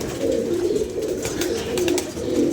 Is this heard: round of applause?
no